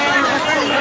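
Steady hubbub of a packed crowd at the Baroni mela fair by the temple gate, countless voices blending into a constant, fairly loud murmur without pause.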